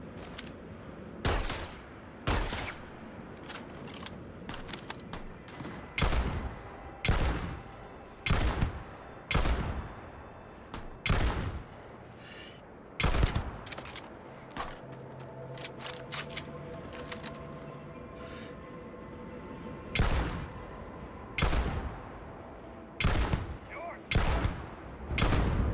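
Gunshots in the Starfield video game ring out as loud, sharp single cracks in an irregular string of about twenty shots, sometimes paired in quick succession with short gaps between.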